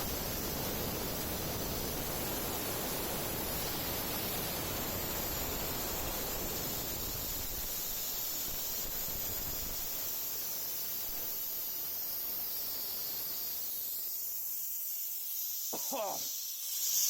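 Compressed air rushes out of a homemade high-pressure tank as a loud, broad, steady hiss that slowly weakens and thins over about fifteen seconds, then fades to near silence with a few faint knocks at the end.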